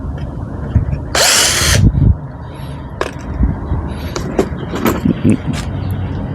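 A power drill from a 177-piece drill and tool set drives a screw in one loud, close burst of under a second, followed by scattered clicks and handling knocks.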